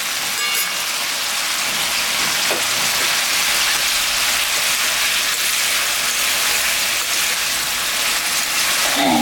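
Ginger-cumin paste goes into a hot pan already holding turmeric, for a vegetable and raikhor fish chorchori. A loud, steady, hissing sizzle fills the whole stretch with no voices over it.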